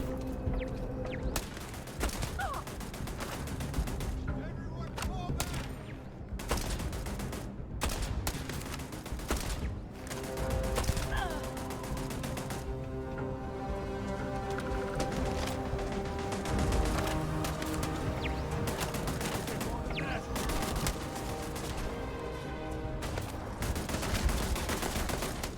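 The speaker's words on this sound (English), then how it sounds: "Oh, that's a turret." Turret gunfire in Starfield goes off as sustained rapid bursts, loud and continuous, with dense overlapping shots and occasional heavier impacts over most of the stretch.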